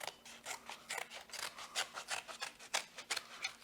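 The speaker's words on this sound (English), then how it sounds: "we're going to cut a big cardboard triangle out" Scissors snipping through a big cardboard sheet to cut out a triangle for a craft cape, a quick series of rough rasping crunches close by, steady rhythm with no talking.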